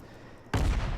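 A World of Warships naval gun salvo from a Japanese light cruiser, the Tenryu, booms out abruptly after a quiet moment, making a loud, broad blast that rumbles on.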